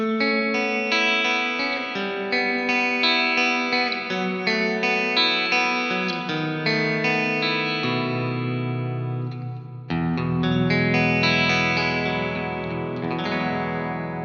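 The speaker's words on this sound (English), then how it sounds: "I'll bring this up to more the wetter side, less of the initial attack, maybe a little bit more pre-delay, and then I'll lengthen this reverb." Electric guitar through a long ambient reverb plugin on a Universal Audio Apollo interface, playing slow sustained chords that bloom and wash together in a wide, wet tail, two phrases with a brief pause between.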